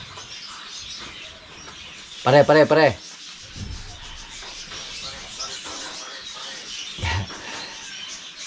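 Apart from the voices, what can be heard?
wild birds calling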